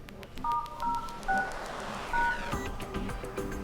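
Keypad tones beep from the dialer of a TP-LINK Neffos Y5 phone as a code is entered, several short separate presses, clear and close, followed by a softer screen tone.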